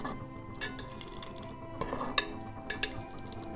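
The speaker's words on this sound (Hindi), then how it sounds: "खीर को हम बीच बीच में इस तरह से चलाते रहेंगे ताकि हमारा खीर अच्छे से बने," Kheer being stirred in a cooking pot, with scattered metal spoon scrapes and light clinks against the pot, fairly close and soft, no talk.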